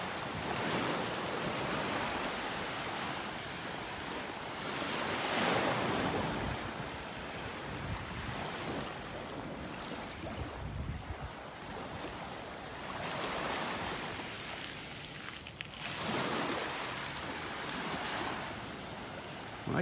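Ocean waves on a beach in North Naples, Florida, washing in and pulling back in broad rolling surges of steady loud surf, with wind buffeting the microphone and no talk.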